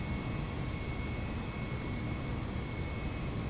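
Steady broadband engine roar of an aircraft during a takeoff replay in Microsoft Flight Simulator, a continuous even drone with no talk over it.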